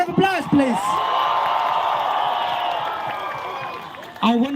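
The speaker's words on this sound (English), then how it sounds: "Round of applause, please." A crowd at a tribal solidarity protest in New Delhi cheers and whoops in a sustained swell that slowly fades, framed by a voice talking briefly at the start and end.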